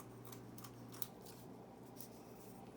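Scissors trimming the paper edges of a handmade organizer, a few faint crisp snips spaced across under three seconds, close and quiet with no voices.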